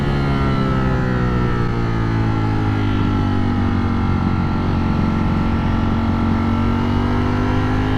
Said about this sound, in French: Alors aussi le son, on est en échappement d'origine, hein.